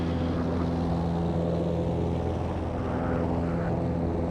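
Loud, steady propeller and engine drone of a small propeller airplane at full power on its takeoff roll from a mountain airstrip, heard from inside the cabin with constant tonal hum.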